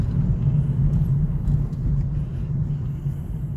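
Cabin noise from a car on the road, a steady low engine and tire rumble heard from inside, continuous and fairly loud with no talking.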